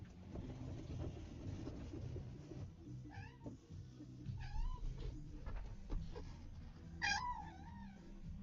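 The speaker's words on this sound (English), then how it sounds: "I'm not sure if you guys can hear him, but he's meowing." A cat meows several times, faint and somewhat distant, over a low rumbling background noise.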